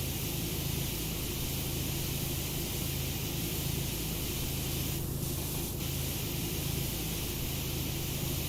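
A pressure washer sprays continuously in PowerWash Simulator while cleaning a Ferris wheel: a loud, unbroken hiss of water jetting onto metal that stays steady throughout, with no talking over it.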